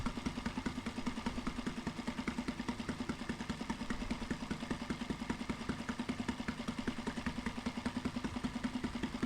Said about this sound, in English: I close the fuel valve so the engine stops by itself